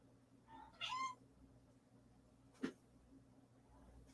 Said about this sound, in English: I got a kitty cat crying behind me here